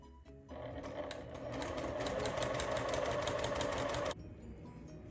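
A sewing machine runs continuously for about four seconds while chain piecing small quilt block pieces, a close, steady whirring hum that starts abruptly, builds slightly, then cuts off sharply.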